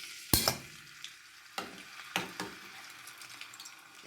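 Green chilies and garlic hit hot oil in a pan with a sharp initial burst of sizzling, then a steady soft crackle broken by several spoon clinks and stirring scrapes.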